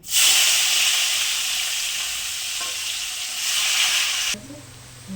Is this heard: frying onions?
yes